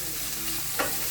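Green onion sautés with bacon in a pan, giving a brief, even, close sizzle with a faint scrape of stirring near the end.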